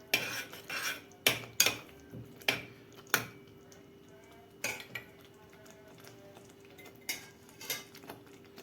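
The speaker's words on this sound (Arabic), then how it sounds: "بعد كده هننزل بالبصل اللي فرمناه بايدينا ده ونقلب." Chopped onion being stirred in a metal pot, with a spoon clinking and scraping against the sides in a series of sharp, irregular knocks over a quiet background hum, no talking.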